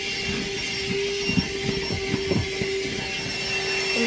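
A vacuum cleaner running inside a car, a continuous close whine with an underlying drone, punctuated by irregular low thumps and rattles as the nozzle moves around, no speech.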